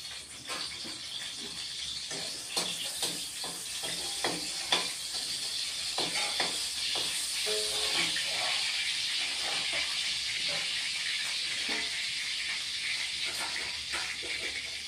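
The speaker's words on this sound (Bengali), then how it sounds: "শুকনো লঙ্কা ফোড়ন দিয়ে দিলাম।" Dried red chillies tempering in hot oil, a steady hissing sizzle with scattered crackling pops, moderately close, with a voice speaking briefly over it.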